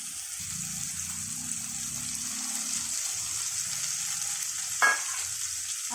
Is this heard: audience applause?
no